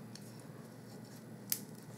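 Scissors snipping a strip of colored cardstock for a bow craft, one crisp close cut after a faint earlier snip, over a quiet room background.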